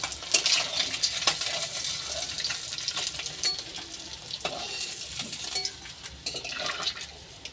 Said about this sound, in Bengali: আর যে বাকি মাছগুলো আছে এগুলো আমি ভেজে নেব